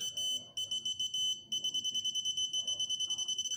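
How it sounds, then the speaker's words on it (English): A high electronic beeping from an electronic walking stick's proximity sensor repeats, slow and uneven at first, then quickening into a steady rapid pulse toward the end. "the closer you are, the faster it beeps"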